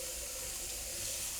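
Tap water runs steadily into a basin for a cold rinse of a Bohemian peasant blouse, a continuous close splashing hiss with no breaks.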